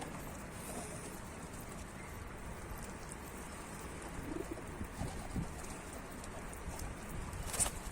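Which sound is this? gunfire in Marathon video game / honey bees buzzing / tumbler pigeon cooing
tumbler pigeon cooing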